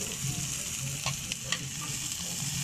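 Green chilies and toppings sauté in a hot pan, giving a steady close sizzle broken by a few soft scraping stirs.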